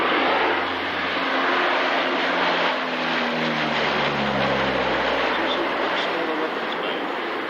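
A Lockheed P-3 Orion with T56A turboprop engines passes at an air show, a loud sustained roar with a slowly falling engine drone as it goes by, and commentary speech can be heard beneath it.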